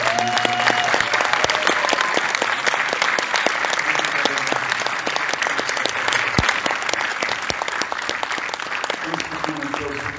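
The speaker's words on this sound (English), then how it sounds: "Can we get a massive round of applause for that?" Sustained, dense audience applause after a talk before a movie screening, loud and even from start to end, with a voice briefly heard through the clapping.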